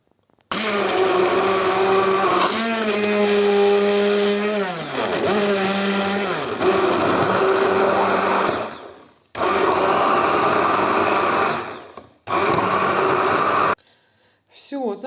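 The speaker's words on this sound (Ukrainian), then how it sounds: "щоб легше було його розбити блендером" A loud blender whirs steadily as it chops aloe with water, its motor pitch dipping and shifting, then cuts out in short pauses before stopping.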